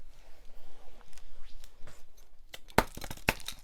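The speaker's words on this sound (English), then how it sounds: "Dropping scissors." Scissors dropped onto a hard surface give a sharp clatter and a second smaller impact after quiet rustling.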